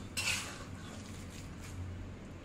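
A spoon stirs chana appe batter with baking soda in a bowl, giving a faint, close scraping and soft clinking. A brief metallic clink opens the stirring, which then continues as a low, steady rub with no voice.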